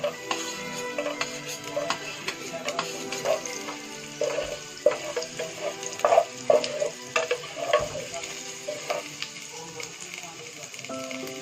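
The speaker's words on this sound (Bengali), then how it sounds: "কড়াইতে দিয়েছি কিছুটা পরিমাণ মতো তেল। এর মধ্যে আমরা দেব রসুন কুচি" Chopped garlic sizzles and crackles steadily in oil in a wok, with scattered pops and light clinks of stirring throughout, close by and moderately quiet.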